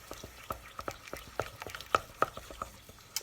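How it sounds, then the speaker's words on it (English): Peanut butter, melted butter and an egg yolk are stirred together in a bowl, a quick series of soft taps and scraping clicks from the utensil, close and quiet, no voices. "Now I'm going to add 1 egg yolk. Just 1. I'll mix this up."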